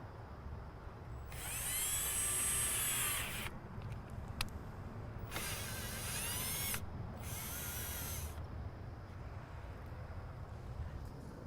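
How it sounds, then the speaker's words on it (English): A power drill with a 5/16 bit bores a hole during a Ram Air scoop install on a 2019-2023 Ford Ranger, whirring in three short, close bursts separated by pauses. "Now with the 5/16 bit, the mark did not show up well, but we know exactly where we're making this hole."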